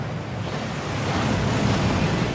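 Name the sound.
waterfall in Gringotts vaults, Hogwarts Legacy video game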